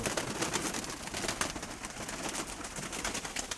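Young pigeons in a loft coo and rustle constantly, several birds together making a dense, close murmur of soft calls and fluttering with no speech.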